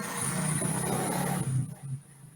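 Rumbling engine of a tricycle passing nearby, a steady low drone that holds for over a second and then fades away, with a thin high whine running above it.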